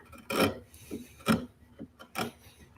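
A sharp chisel cutting wood, with three distinct rasping cuts spaced about a second apart, each followed by a softer scrape, fairly close and quiet with no talk.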